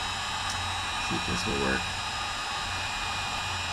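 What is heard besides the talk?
corded heat gun blowing on wiring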